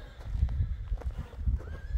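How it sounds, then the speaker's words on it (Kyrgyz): Kyrgyz Karabair horse neighing in a loud, close whinny, with hoof clip-clop and stamping low in the mix through the short stretch. "Кыргыз жылкы, карабайыр."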